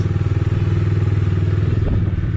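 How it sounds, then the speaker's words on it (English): A Bajaj Dominar 250 BS6 motorcycle engine idles steadily up close on a test ride, a smooth, even low throb with a brief clunk near the end. "The very first feel, the engine is absolutely smooth."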